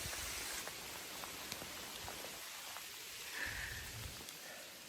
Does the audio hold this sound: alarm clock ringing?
no